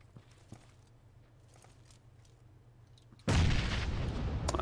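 Grenade blast in PUBG, a sudden loud, broadband boom after a few seconds of faint quiet ambience, leaving a sustained rumbling roar.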